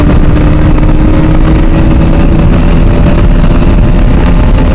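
A Bajaj Pulsar NS200 motorcycle at high speed in third gear, its engine a loud, continuous droning roar with heavy wind rush buffeting close to the rider, no talk.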